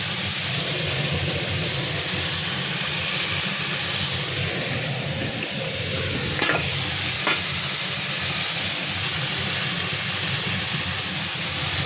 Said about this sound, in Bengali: দিয়ে ভালো করে নেড়ে দিয়ে এবার ঢাকা দিয়ে দেবো, ভাজতে দেবো